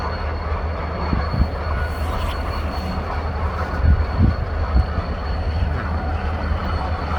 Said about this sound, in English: Still going over the train bridge